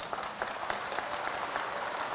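Steady applause from an audience at a Korean-language religious sermon, dense continuous clapping held at an even level for the whole stretch with no voices above it.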